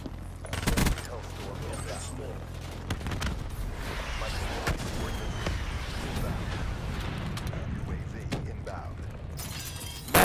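Sentry guns fire in Call of Duty Black Ops 3: dense bursts of automatic gunfire and sharp impact cracks, with a loud volley near the start and steady shooting after. Game audio throughout, with talk mixed in.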